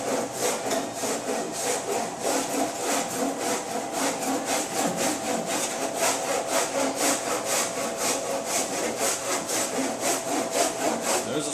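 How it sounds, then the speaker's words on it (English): A body filler grater shapes soft fiberglass filler on a 2013 Honda Accord undergoing collision repair, working back and forth in steady, rapid rasping strokes that carry on close and evenly for the whole stretch. "I'm going to hit it with the grater just real quick to see how flat I've gotten it."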